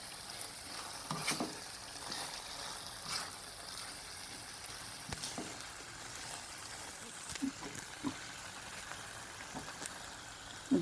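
Ridge gourd sabzi with roasted peanut powder sprinkled in is stirred in a pan: a faint, continuous low sizzle with light, occasional spoon scrapes and taps, soft and close.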